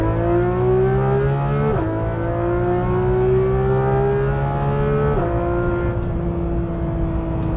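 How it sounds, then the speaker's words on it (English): Porsche GT3 RS exhaust revving hard under acceleration, a loud, rising engine note that climbs steadily, drops sharply at two gear changes, then climbs again. "so we're just going to get a bit of this exhaust now"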